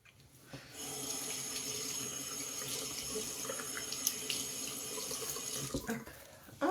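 Tap water running steadily into a sink while a makeup brush is cleaned, with a constant close splashing rush and a brief clatter near the end as the flow stops.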